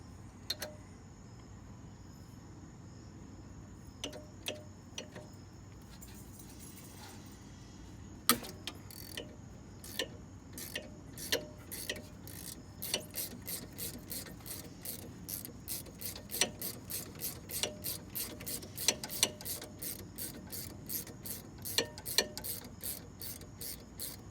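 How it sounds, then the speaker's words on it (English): Rear brake caliper bolts being backed out on a 2014 Jeep Grand Cherokee, with quiet, sparse mechanical clicks that turn into a steady run of close, rapid ratchet ticks, all fairly faint and with no talking. "we're going to remove the two bolts that are holding this caliper portion right here"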